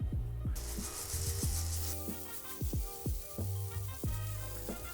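Banana pancake batter fries in butter in a pan with a soft, steady sizzle, overlaid by repeated scraping and tapping sounds, fairly quiet and close.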